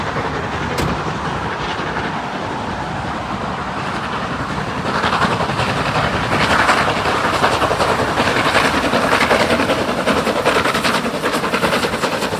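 A steam train rolls past in the Blue Mountains near Sydney, a loud continuous rumble and rattle of rail cars close by that holds steady, with rhythmic clatter growing slightly stronger midway.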